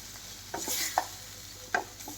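Ginger and garlic paste stirred in a pan over low heat, a handful of soft spoon clinks and scrapes against the pan over a faint sizzle, quiet and close.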